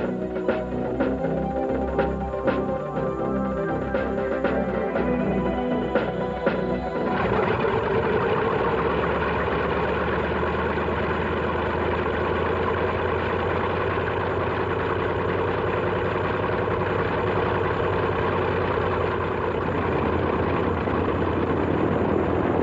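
B-25C Mitchell bomber piston engines run in a steady, loud, continuous drone, with a change in tone partway through, then a sustained heavy engine roar with no talk.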